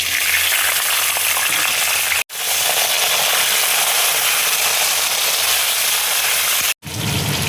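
Long beans frying in hot mustard oil in a kadai, a loud, steady broadband sizzle that runs continuously with two brief dropouts to silence.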